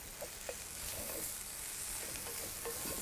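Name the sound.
stirring oats with butter and vegetables in a pan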